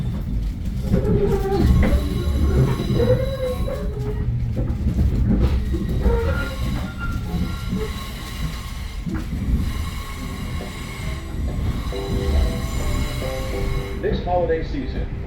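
A Metro North commuter train runs with a heavy, continuous rumble, rail clatter and intermittent wheel squeals, loud and close from start to finish.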